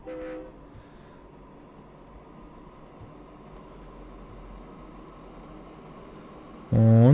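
A train departs a station in the railway simulation game Train Fever, with a steady low rolling rumble that builds gradually, then a loud horn blast near the end and a brief tone at the start.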